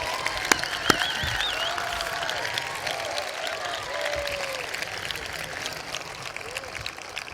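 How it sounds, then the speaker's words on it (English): A large crowd at a high school graduation ceremony breaks into sustained applause, dense clapping mixed with scattered whoops and cheers that carries steadily throughout. "Let's give them a great round of applause."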